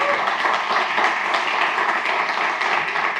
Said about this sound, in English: give already a big applause to Rick